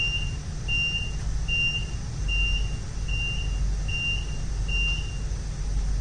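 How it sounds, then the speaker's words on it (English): A shuttle train carriage alarm beeps in a steady, repeating pattern of short high tones over a constant low mechanical rumble. "Should an incident be detected in your carriage, the following alarm will sound."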